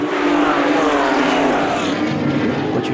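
Race cars roaring away at the start of a Magny-Cours race, a loud, dense wash of engine noise from several cars close by, swelling and shifting as they pass, with no voices.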